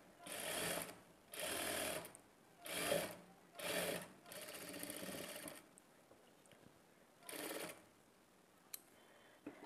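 A sewing machine stitches blouse piping with a half-inch margin in several short, close bursts separated by brief pauses, with a faint voice between runs.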